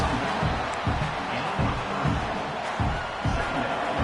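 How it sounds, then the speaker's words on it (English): A big stadium crowd roars steadily at an American college football game, a loud continuous wash of cheering with rhythmic pulses like chanting or stomping running through it. "The roar of the crowd trying to fuel this defense to keep them pinned in their own end"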